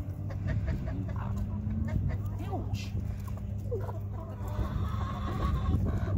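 Chickens cluck and murmur close by while being fed by hand, a busy layer of soft calls over steady farmyard background, with people talking briefly.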